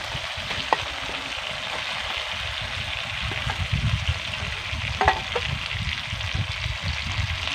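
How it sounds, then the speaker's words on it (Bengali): Grated egg and potato stirred into hot, frying masala: a steady, close sizzle runs throughout, with a few sharp spoon scrapes against the pan and no talking. "এবার মশলার সঙ্গে ভালো করে মিশিয়ে নেব"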